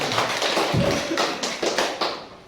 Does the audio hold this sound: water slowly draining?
no